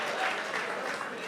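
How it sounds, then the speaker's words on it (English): An audience at an open source community conference claps steadily, a dense and even wash of applause that stays at the same level without a break. "why are you clapping?"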